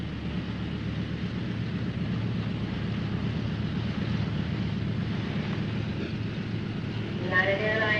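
A propeller airliner engine drones steadily at departure, a loud, continuous low rumble throughout with a brief higher tone rising near the end; a faint voice may sit underneath.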